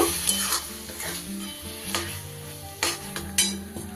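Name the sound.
stirring poppy seed and green chili paste into turnip fish curry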